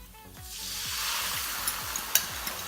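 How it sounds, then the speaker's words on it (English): Sauce is stirred into browned chopped garlic in a hot pan for orange chicken, a rising wash of sizzle with a few sharp clicks of the utensil against the pan, near and moderately loud. "And then we're gonna stir in the sauce."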